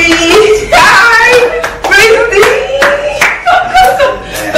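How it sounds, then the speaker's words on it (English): A baby claps small hands in a quick string of sharp claps, mixed with the baby's babbling voice and a bit of laughter close by. "He's clapping."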